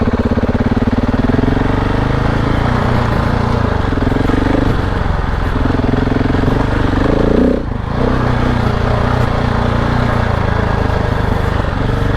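KTM 690 Enduro R dirt bike ridden off-road on a dry trail at Chengwatana, its engine droning steadily and loudly up close throughout, with a brief dip in the revs near the end.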